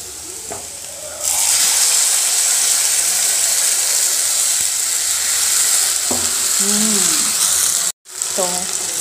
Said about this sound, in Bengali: মশলাটাকে ভালো করে এটাকে ভাজতে হবে,